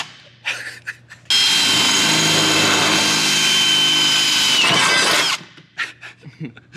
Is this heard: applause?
no